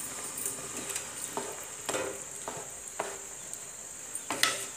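Coarse, home-ground masala spice is tipped into rice in a pan, making soft scattered rustles and light stirring scrapes over a faint steady sizzle, quiet and close with no talking.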